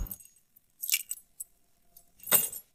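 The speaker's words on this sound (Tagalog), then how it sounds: "Lahat ng susi sinubukan ko na pero wala ang gumana." Keys jangle in bursts as they are tried in an old lock in an abandoned building in Fukushima, Japan: brief metallic clinks, a louder rattle in the middle and another at the end, with near-silent gaps between.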